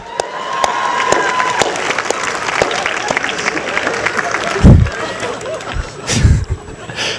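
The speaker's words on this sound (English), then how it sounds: "Let's give this man a round of applause." A crowd at the Wittenberg University 2013 commencement claps and cheers in a steady, dense wash, with a few louder whoops and thumps near the end.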